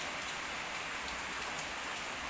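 Morning rain falling steadily in a village in Isan, northeastern Thailand, a dense, even hiss of drops on surfaces with no pauses, close and continuous throughout.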